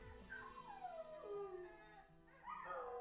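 A dog howls in long sliding, wavering tones that fall and then rise again near the end, loud and close, with no talk over it.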